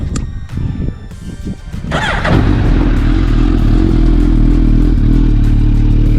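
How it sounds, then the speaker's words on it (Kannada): A 2024 Suzuki Hayabusa fires up after some clattering, then settles into a loud, steady, deep exhaust rumble at close range with no talk over it. "ಹೇಗಿದೆ ನೋಡಿ ಸ್ನೇಹಿತರೆ ಸೌಂಡು ಹಾಂ ಎಕ್ಸಾಸ್ಟ್ ಸೌಂಡ್ ನೋಡಿ ಹೇಗಿದೆ"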